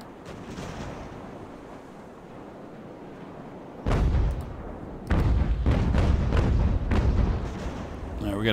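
Broadside cannon fire from sailing warships in the naval battle game Ultimate Admiral: Age of Sail, heavy booming blasts arriving in clustered bursts over steady sea and battle ambience.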